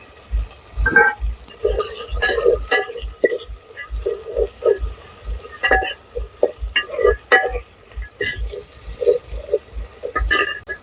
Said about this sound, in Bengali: আদা রসুনটা একটু নেড়ে টমেটোটা দিয়ে দেবো।